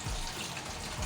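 Water is pumped into a fish pond by an automatic feeder setup, making a steady close rushing and splashing flow with no talk.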